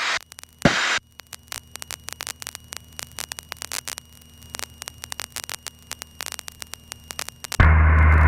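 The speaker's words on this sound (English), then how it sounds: "Station transmitting your carrier wave only. Somebody's fingering the button" Radio static from a carrier wave as a transmit button is held open on an aviation frequency, a steady hiss and mains-like hum with rapid crackling ticks, cut off by a louder burst of noise at the end.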